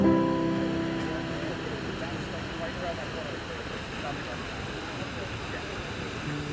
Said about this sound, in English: Seljalandsfoss is the perfect waterfall to visit.